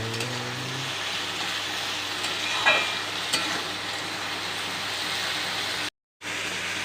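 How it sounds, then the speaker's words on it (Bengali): Sliced ridge gourd frying in oil, a steady close sizzle with a few stirring scrapes, then a brief cutout to silence near the end. "ঝিঙেটা ভাজা চলছে, সম্পূর্ণ তেলের উপর ভেজে নিচ্ছে"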